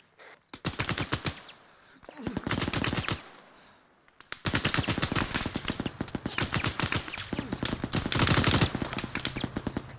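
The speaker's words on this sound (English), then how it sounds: "Spread out, there's a fucking 50 firing." Heavy .50 caliber machine gun firing in a military video game, loud sustained bursts of rapid shots with short pauses between, close and dominating the scene.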